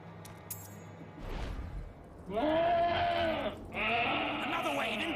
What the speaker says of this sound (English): Make these goats bleat their last.